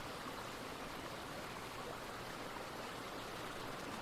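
Soft, steady rush of running water in a woodland brook, a continuous faint hiss with no voices.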